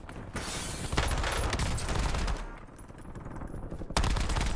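Sustained automatic gunfire from a Warzone match, dense rapid bursts that stay loud and close throughout, briefly easing midway before a sharp fresh volley near the end.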